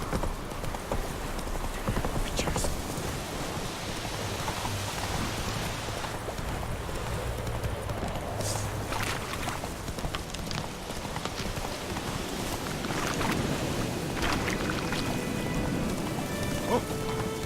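A horse gallops in The Witcher 3, its hooves clip-clopping in a continuous rhythm under a steady rain-like wash of ambient noise.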